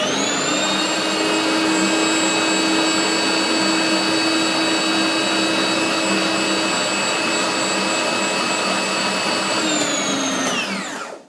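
A blender whirring through soaked soybeans for homemade soy milk, a loud, steady high motor whine held for about ten seconds before spinning down abruptly, with no talking.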